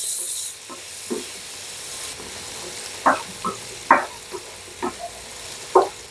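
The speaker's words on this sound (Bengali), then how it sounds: "তেল গরম হয়েছে, এবার আমি ঢেঁড়সগুলো ঢেলে দিচ্ছি।" Okra fried in hot oil with a little turmeric, a soft low sizzle under a series of distinct ladle scrapes and clinks spaced a second or so apart, close by, with no talking.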